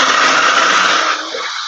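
Kitchen blender motor running loud and close, a dense steady whir that drops in pitch and intensity near the end as it winds down, with no voices.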